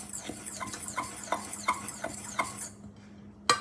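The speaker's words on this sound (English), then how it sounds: "we're just going to take this fork and mix this all together really well." A fork mixes pumpkin roll batter in a bowl, with rhythmic soft scraping strokes and bright clinks of metal on the bowl, close and steady before ending in one sharp tap.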